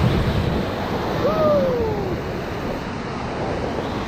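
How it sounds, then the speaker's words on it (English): Whitewater on the Middle Ocoee River rushes in a loud, steady roar during a raft trip, with a thin whistle-like call passing briefly over it; no distinct single splash stands out. "Enjoy, big splash coming up."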